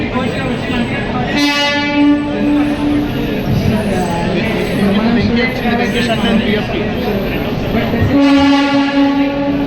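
A train rumbles loudly nearby as its horn blasts twice, once early and again near the end, with a voice speaking briefly over the noise; the arriving train is the Kacheguda–Ashokapuram express.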